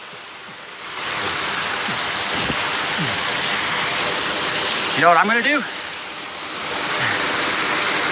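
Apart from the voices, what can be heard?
glacier-fed alpine waterfall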